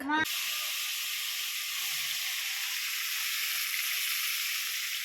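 Cumin seeds fry in hot oil left over from frying fish in a wok, giving a continuous close hiss and sizzle after a brief voice at the start.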